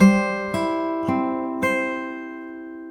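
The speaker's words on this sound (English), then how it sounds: "But it's in the context of an inverted major 3 chord" A sustained inverted major III chord with G in the bass rings out on a keyboard, struck once and then re-articulated three times in even succession, each attack bright and clear before the sound slowly decays.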